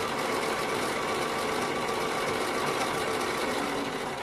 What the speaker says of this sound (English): So then you just sew right through and it's all in.